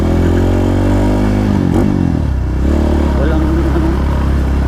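A Rusi KRY-200 200cc trail motorcycle engine runs loud and close, holding a steady throb before its pitch shifts briefly as it revs, with a voice faintly present underneath.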